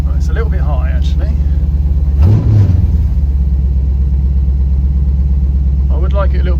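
A carbureted LS-swapped second-generation Pontiac Firebird idles with a steady, slightly high low rumble throughout, with a brief swell near the middle and a voice talking over it at the start and end.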